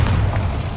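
Bombarda explosion spell in Hogwarts Legacy lands as a single short, deep boom, loud and close, with a low rumble filling the moment.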